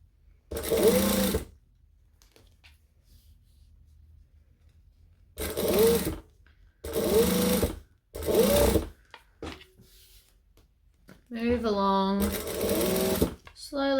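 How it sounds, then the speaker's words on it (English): A sewing machine stitches along the edges of a handbag in several short bursts of rapid whirring and clatter separated by pauses, and a person speaks briefly near the end. "I'm just kind of going to sew along the edges"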